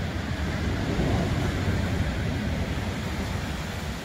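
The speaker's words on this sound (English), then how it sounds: "Look at the size of that wave" Large waves pounding a steep, sandy beach bank where a fishing vessel lies buried, a continuous loud roar of surf and wind with no clear single break standing out.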